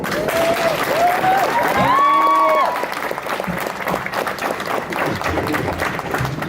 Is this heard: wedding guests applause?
yes